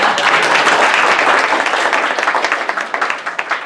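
A luncheon crowd applauds steadily and loudly, the clapping thinning toward the end.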